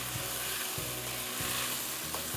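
Chicken pieces fry steadily in hot oil, a dense continuous sizzle with faint stirring knocks recurring every half second or so, close and fairly loud with no voices.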